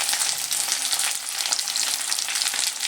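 Hog plums frying in a pan with ginger paste and cumin powder, a loud, continuous crackling sizzle close by with quick stirring scrapes throughout.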